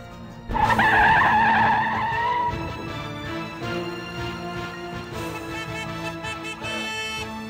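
Car tires skid and squeal under hard braking, a loud screech that bursts in suddenly and holds for a couple of seconds, then fades into a lingering tonal ring with no voices.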